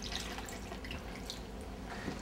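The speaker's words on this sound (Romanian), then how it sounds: "Să punem apă peste toate bunătățile astea." Water is poured over chicken pieces in a pan, a brief soft splashing trickle with light dripping, quiet and without talk.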